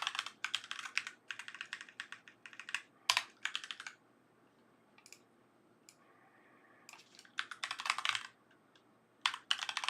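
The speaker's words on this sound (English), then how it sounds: "What is wrong with my typing?" Rapid clicking keystrokes on a computer keyboard come in quick bursts separated by short pauses, close and crisp in an otherwise quiet room.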